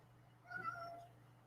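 A large 20-pound pet cat gives a single drawn-out meow, fairly faint and close, over a quiet room hum with no talking.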